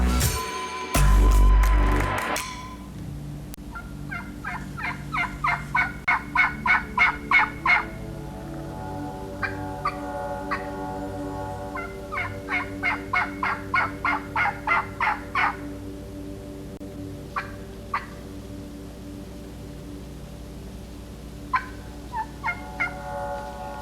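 Wild turkeys gobbling in eastern Missouri woods during a spring hunt: repeated rattling gobble bursts in several rounds, loud and fairly near, opening with a brief loud knock or bump, no talking.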